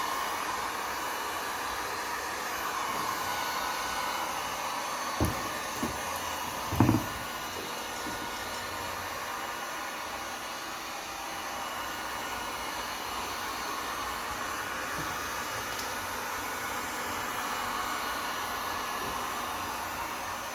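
Special heater blowing hot air around a Tesla Model S headlight to loosen the glass from its housing, a steady airy hiss running throughout with a couple of brief soft knocks partway in.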